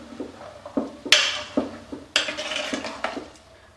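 Medium-cut potato and tomato pieces with green peas being mixed in a pressure cooker, a spoon clanking and scraping against the metal pot in several sharp knocks and stirs, close and without talk.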